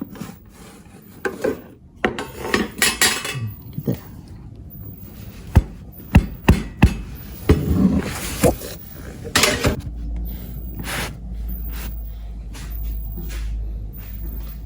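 A hot chocolate sourdough shokupan pan is banged down several times to loosen the loaf, giving sharp, close knocks in a quick cluster amid scraping and handling noises.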